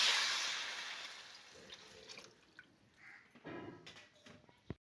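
Water poured into a pan of fried pointed gourd and potato curry with tomato: a brief hissing splash at first, then soft drips and faint bubbling, close and quiet.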